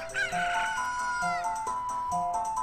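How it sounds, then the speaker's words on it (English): A rooster crows in a Legend of Zelda: Ocarina of Time game scene, a loud, drawn-out cock-a-doodle-doo with a shrill rising pitch and a couple of short clucking bursts around it, close and clear over soft game music. "just bring out the chicken."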